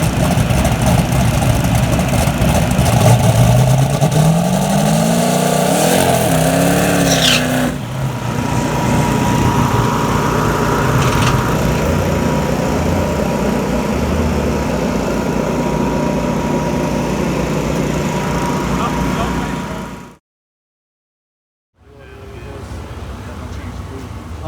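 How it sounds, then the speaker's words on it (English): Drag race car with a John Dock tune-up, its engine loud and close as it revs hard through a burnout, a rising sweep then a sustained roar, before cutting out abruptly near the end and coming back; voices are faintly mixed in. "we went to do the burnout"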